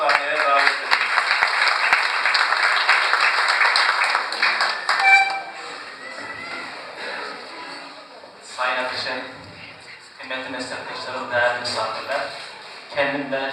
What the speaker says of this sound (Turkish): Ramazan Çoban hocamızı alkışlarınızla